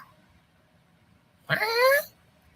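A single drawn-out meow, close and clear, rising then falling over about half a second against a quiet background.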